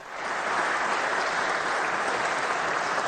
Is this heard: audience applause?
yes